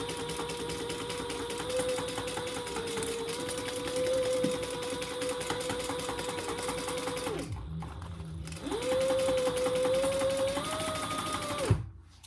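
A sewing machine stitches the outside gusset seams of a crossover bag with a steady close mechanical whir, stops briefly partway, then runs again before a final halt.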